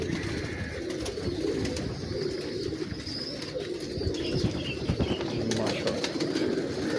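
Pigeons in a breeding loft coo in soft, repeated low calls, with occasional wing flutters and people talking nearby.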